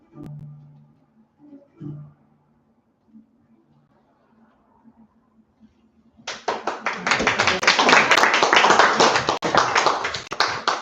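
Audience applause at a Connecticut book festival, a dense sustained burst of many hands clapping that starts abruptly after a quiet stretch with a few faint taps and murmurs, then stays loud and steady to the end.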